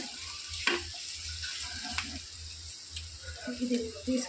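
Curry leaves crackle and sizzle in hot oil until crispy, a steady frying hiss broken by sharp pops and the occasional clink of a spoon, with voices nearby.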